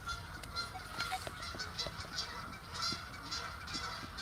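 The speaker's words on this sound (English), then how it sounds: "There's a goose fight over there." Geese honk repeatedly in an outdoor goose fight, with overlapping calls coming at a steady pace at a moderate distance over faint background noise.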